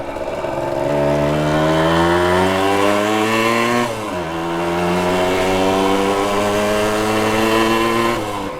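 A Yamaha DT100 two-stroke motorcycle engine revs up close and loud in two rising pulls, its buzzing pitch climbing steadily, dropping briefly between them, then holding high before easing off.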